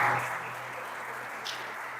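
A church congregation applauds in a steady, moderately loud wash of clapping that holds evenly for two seconds.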